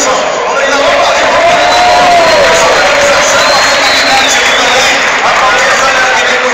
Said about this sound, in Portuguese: Vamos aplaudir, pessoal.